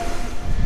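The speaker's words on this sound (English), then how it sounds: "this train's going to Maastricht" A train rumbles at a railway station in Aachen, Germany, a brief, loud, close low clatter of rolling rail cars.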